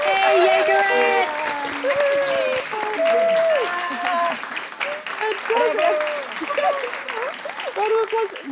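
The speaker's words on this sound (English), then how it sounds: "Round of applause." Participants in an online show clap and cheer through their own microphones, a patchy mix of applause, whoops and overlapping voices that stays loud across the whole stretch.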